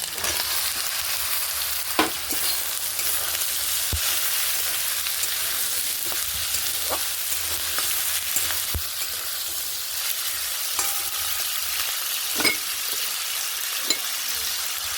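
Vegetables and flat beans fry with dried fish in a pan, a steady close sizzle that runs the whole time, broken now and then by sharp clicks and scrapes of stirring.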